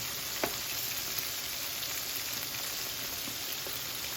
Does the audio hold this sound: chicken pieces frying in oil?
yes